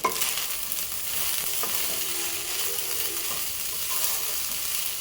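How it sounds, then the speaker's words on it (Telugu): Tomato rice is stirred with garam masala in a hot pan, giving a continuous close sizzle with the soft scrape of a spoon turning the rice throughout. "వేసుకొని ఒకసారి మంచిగా మిక్స్ చేసుకోండి"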